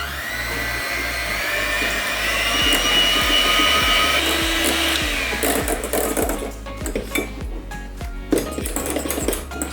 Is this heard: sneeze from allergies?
no